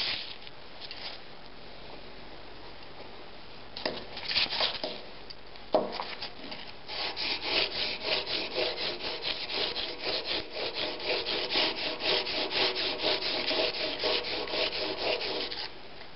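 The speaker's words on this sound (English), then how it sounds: "Start with 150 grit sandpaper." A chisel being rubbed on 150 grit sandpaper produces rhythmic, close scraping strokes, sparse at first and then a fast, steady back-and-forth sanding, with no talk.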